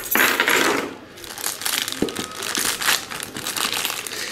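Knife slicing open a package during an unboxing, with crinkling plastic and tearing packaging, a sharp snap near the middle, and continuous close rustling throughout.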